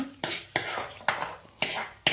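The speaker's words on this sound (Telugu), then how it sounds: "మిక్సీ గిన్నెలో వేసుకోవాలి." Five sharp clinks of a spoon against a metal mixer jar as boiled tomatoes are scooped in for tomato rasam, evenly spaced, close and fairly quiet, no talking.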